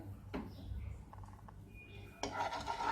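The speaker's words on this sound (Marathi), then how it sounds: "आपण कढईत आपण दोन चमचे एक ते दीड चमचाच तूप टाकून घेणार आहोत तूप थोडं पसरून घ्यायचं आहे" A spoon spreads ghee across a kadai, giving faint metal scraping and clinking against the pan over low background hum, close by.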